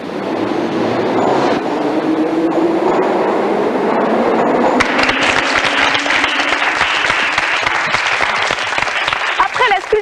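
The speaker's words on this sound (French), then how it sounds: "Vous saviez que le métro de Moscou était le plus beau du monde?" A Moscow metro train rumbles through a station with a rising whine, then a louder clattering roll of wheels over track. A person talks over the train noise.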